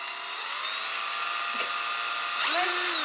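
A small power drill bores holes in a plastic Warhammer model, whining steadily at close range, its pitch dipping and climbing as the bit bites into the plastic, with no speech.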